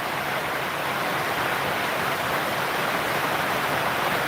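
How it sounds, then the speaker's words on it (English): Rain falls inside a workshop as a steady, dense hiss of broadband noise that stays at the same level throughout, close and loud, with no voices. "raining inside the workshop again."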